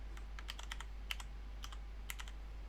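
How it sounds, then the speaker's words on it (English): Keys clatter on a computer keyboard in several quick bursts of typing, close and fairly quiet over a steady low hum, with short pauses between runs of keystrokes. "We need to type in"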